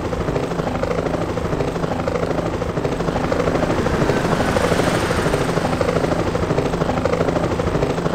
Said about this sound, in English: they are KA-50 helicopters with their twin rotors